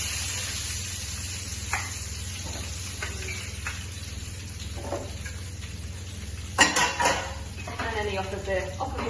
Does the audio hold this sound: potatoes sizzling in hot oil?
yes